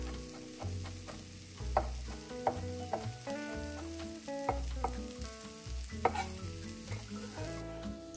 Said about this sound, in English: I'm adding the garlic to the onion and allowing it to cook for a moment or so